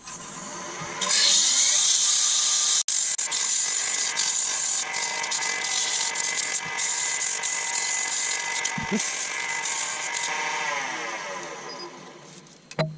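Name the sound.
sandpaper sanding a wooden Viking drinking cup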